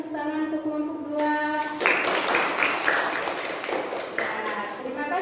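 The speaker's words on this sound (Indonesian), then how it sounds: "Berikan tepuk tangan untuk kelompok 2" A classroom group of children applauding, a burst of brisk, close hand clapping that starts after a teacher speaks and runs on for several seconds.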